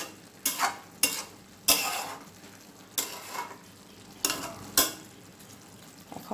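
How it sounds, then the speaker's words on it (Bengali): Chickpea pulao with rice and a splash of water being stirred in a pot, a run of distinct, spaced scraping strokes over a soft background bubbling sizzle, close up. "সামান্য একটু পানি দিয়ে এখন আমি এটাকে ভালোভাবে নেড়ে দেব"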